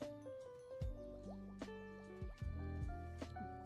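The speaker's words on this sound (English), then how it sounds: "Bubbling. There was a bubbling noise." Irregular liquid drips and gurgling bubbles, close and fairly quiet, with small pops and trickling sounds scattered through a few seconds, no talking.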